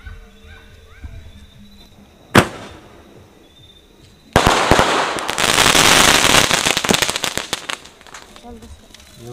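Diwali firecrackers burst during a Tihar celebration in Nepal: one sharp bang, then a long dense chain of rapid crackling pops, loud and close, with people talking throughout.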